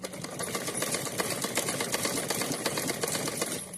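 A sewing machine stitches a folded hem on cotton fabric, running steadily and near at an even, rapid rattle with no breaks and no voices.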